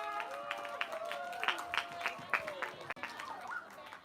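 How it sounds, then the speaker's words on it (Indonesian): Scattered applause from participants at a team competition opening, moderately faint clapping mixed with lively chatter and voices throughout. "Tepuk tangan untuk Regu D."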